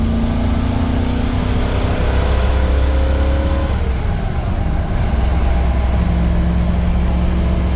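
A car with a Ford 460 EFI V8 pulls hard through the gears, a loud, continuous engine drone whose pitch climbs steadily, drops at a shift, then rises again, heard up close from inside.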